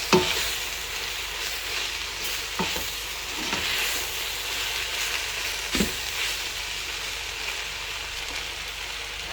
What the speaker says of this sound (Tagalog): add some coriander powder, mix together